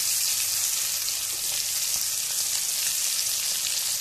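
Stuffed pointed gourd (bharwa parwal) frying in oil in a pan over a medium flame, a loud, dense, continuous sizzle heard up close with a few faint pops and no voices.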